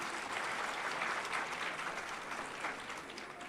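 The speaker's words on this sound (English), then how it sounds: "Can we have a big round of applause for her" Audience applause for a second-year student music performer at a university cultural event, heard as a steady wash of many hands clapping, fairly quiet and even from start to finish with no voices.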